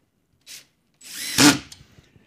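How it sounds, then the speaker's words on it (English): A close drywall screw gun whirs briefly, then drives a drywall screw in with a rising buzz that ends in a short grinding clutch chatter. "you pretty much run it in until it makes that little grinding sound"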